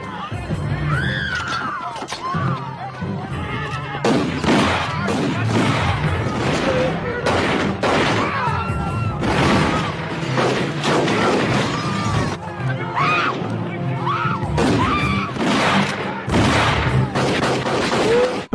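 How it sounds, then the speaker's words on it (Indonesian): Revolver shots ring out inside a bank during a shootout in a western, loud and repeated amid chaotic crowd noise, crashes and shouting voices. "sebuah letusan revolver terdengar dari dalam bank"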